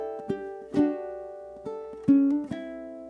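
Open chords strummed on a ukulele in a strumming etude, with several separate ringing strums spaced unevenly across the phrase, each decaying before the next, played clearly and alone with no talking.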